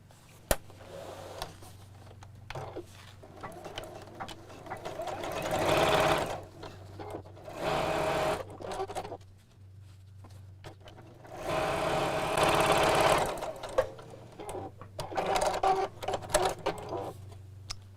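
A sewing machine runs in two long bursts as it stitches down each side of a folded fabric bag. The motor whirs close and steady, with quiet pauses between the seams and no speech.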